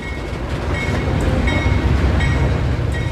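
A Seminole Gulf Railway freight train, the Desoto Turn, rolls past close by with a steady heavy rumble and rhythmic clicking of wheels over rail joints.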